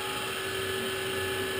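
A Titan TM25V mill drills with a 5mm high speed steel bit, giving a steady whine with a constant tone over a broad machine hum, continuous and fairly quiet with no talking.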